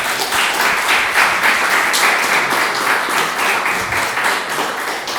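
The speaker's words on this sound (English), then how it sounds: "So an applause, please." An audience applauds at a coding bootcamp demo day. Dense, even clapping fills the room and continues without a break.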